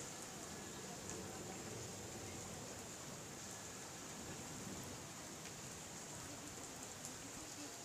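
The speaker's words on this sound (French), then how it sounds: "Bah, il s'éloigne l'orage." Rain falling steadily during a thunderstorm in Carpentras, France, a constant dense hiss at low level with no distinct thunderclaps, the storm moving away.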